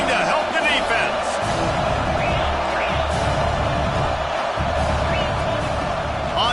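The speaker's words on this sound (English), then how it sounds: "this crowd is coming to help the defense" Stadium crowd noise in a college football video game during a late defensive stand, a loud continuous roar with brief swells, heard beneath steady play-by-play commentary.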